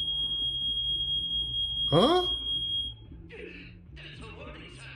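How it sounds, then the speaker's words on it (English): A smoke detector alarm gives a steady high electronic tone, broken by a sharp chirp, while a low hum runs underneath and a person briefly speaks afterward. "That was my smoke detector, but not me."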